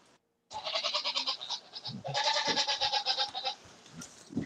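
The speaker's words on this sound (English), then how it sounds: "now you can hear my goats yelling" Goats bleat loudly and repeatedly nearby, wavering cries following one after another after a brief silence, with a few low thumps underneath.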